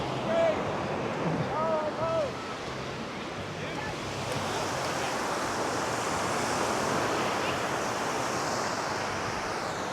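Ocean waves breaking steadily on a Texas beach, a continuous loud wash of surf with wind noise buffeting the microphone, and a brief voice early on.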